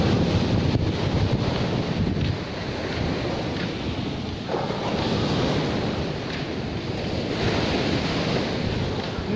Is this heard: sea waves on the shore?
yes